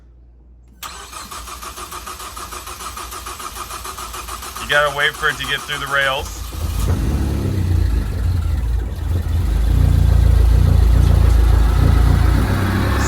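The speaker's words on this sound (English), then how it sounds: "switch this over to engine start and see if we can at least get a crank out of it" Ford Focus ST engine cranking, catching and starting on a new battery, then settling into a loud steady rumble as the idle builds; a person talks over the starter noise.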